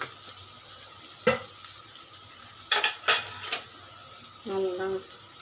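Radish stir-fry with chili powder and turmeric being stirred in a pan, sharp intermittent clinks of a spatula against metal over a faint sizzle, with a short voice near the end.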